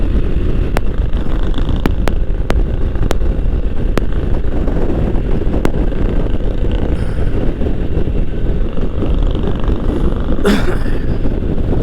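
A Harley-Davidson motorcycle cruises in third gear at about 3000 RPM, its engine rumble buried under heavy, constant wind buffeting on the microphone, with a few sharp clicks and a brief louder gust near the end.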